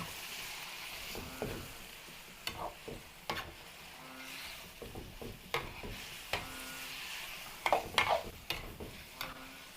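Food is stirred in a cooking pot during fiesta cooking in Malvar, Batangas, with intermittent scraping clinks and knocks of the utensil over a faint simmering sizzle, close and fairly quiet, without talk.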